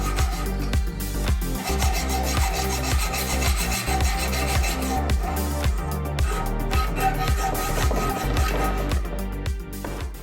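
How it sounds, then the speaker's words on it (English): Sawing through hardwood with a very dull hacksaw: steady back-and-forth rasping strokes, close and loud, each stroke repeating in an even rhythm for about ten seconds with no talking. "And now to demonstrate the world's dullest hacksaw."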